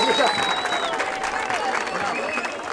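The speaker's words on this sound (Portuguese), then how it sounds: "Palmas pra essa batalha" A crowd at a rap battle semifinal in Barueri applauds and cheers steadily, a dense wash of clapping and voices filling the space for a few seconds, with some whistling over it.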